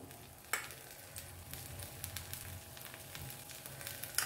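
Uttapam cooking in a pan with oil poured around its edges, a quiet steady sizzle that jumps with a sharp crackle as the oil hits, then continues with soft spitting and popping.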